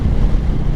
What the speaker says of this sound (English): golly, it's windy